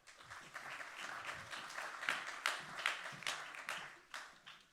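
An audience at a conference welcomes a regional director with applause, a few seconds of many hands clapping at moderate level, with sharper individual claps standing out as it fades.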